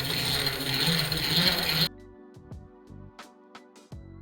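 Film is wound by hand onto a spool for a World War II-era Eyemo 35mm movie camera. After a brief burst of broadband noise, a close, quiet run of small ratcheting clicks and mechanical ticks follows at an uneven pace.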